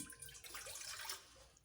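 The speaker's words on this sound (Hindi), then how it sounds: "सबसे पहले हम एक देगची लेंगे, उसमें ऐड करेंगे 1 कप पानी।" One cup of water poured into a cooking pot to start ginger tea gives a steady, close splashing stream that runs for under two seconds with no voices.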